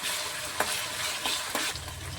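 Curry leaves fry in hot oil for a Kannada onion chutney, giving a steady close crackling sizzle with a few louder bursts as they are stirred.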